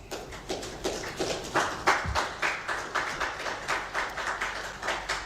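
Light applause at a ministerial press briefing, a modest room of hands clapping in a steady, moderately rapid rhythm at middle distance, no voices over it.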